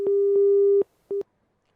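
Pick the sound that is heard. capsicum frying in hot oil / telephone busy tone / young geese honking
telephone busy tone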